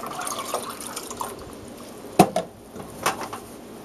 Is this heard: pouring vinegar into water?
yes